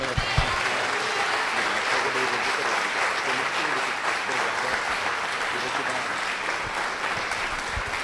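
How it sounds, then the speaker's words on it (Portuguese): Sustained, loud applause from a large church congregation welcoming their pastor, dense clapping filling the room steadily with a few voices calling out underneath. "eu queria receber o meu pastor com uma salva de palmas"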